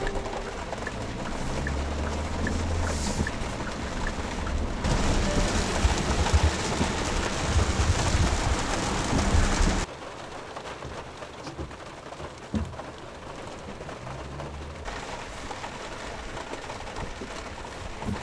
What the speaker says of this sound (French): Ça pleut fort.